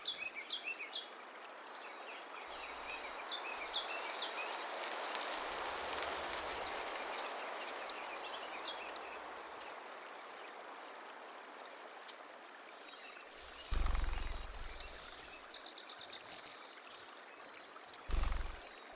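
Faint, scattered wild bird calls drift through a forest over a steady rushing, stream-like wash, with a few brief louder bumps of nearby noise.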